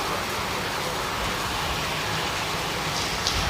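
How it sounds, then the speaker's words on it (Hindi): Heavy downpour in Pattoki, Kasur, Punjab, on flooded streets: a dense, steady hiss of rain with a low rumble beneath, constant and even throughout. "इतनी तेज़ बारिश हो रही है"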